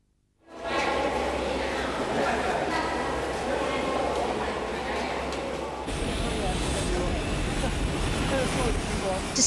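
A small passenger plane flying from Vientiane to Xieng Khouang in Laos hums with a steady cabin engine drone that fades in after a moment of silence and stays constant, with a slight change in tone partway through.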